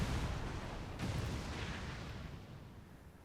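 Detonated charges exploding in the video game XCOM 2, a loud, heavy blast with a second thump about a second in, rolling into a broad rumble that slowly fades.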